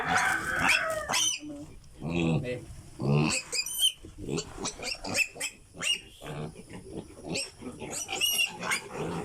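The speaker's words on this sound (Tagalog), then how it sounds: "Yan po ang bago nating biik na gagawing vor ah, o barako." A newly bought piglet, intended as a future breeding boar and just freed from a sack, gives repeated sharp, loud squeals and grunts in short bursts close by.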